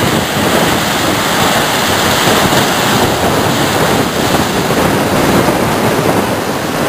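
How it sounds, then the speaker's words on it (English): Ocean waves breaking on rocks make a loud, continuous roar and wash, with wind buffeting the microphone throughout and no voices. "I love to see the waves hitting up on the rocks."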